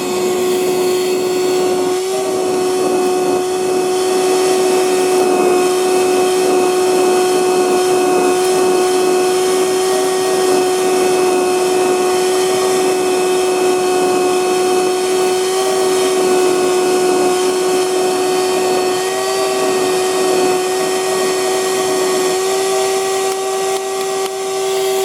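A DeWalt DCV580 cordless shop vac runs steadily, vacuuming up dirt and rocks, its motor whine holding a constant pitch close by for the whole stretch, with faint rattling of debris through the hose.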